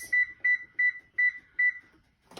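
An oven timer gives five short, bright electronic beeps in a quick, slightly uneven sequence as buttons are pressed to set it for 12 minutes while preparing prime rib, with no voices.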